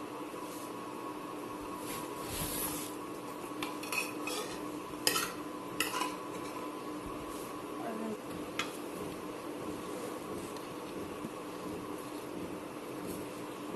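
Dishes and cutlery clink softly and intermittently during a home meal, with scattered small taps and scrapes over a steady low background hiss, fairly close but quiet.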